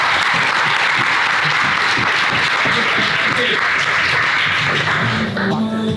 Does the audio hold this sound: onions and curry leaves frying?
no